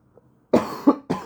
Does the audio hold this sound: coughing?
yes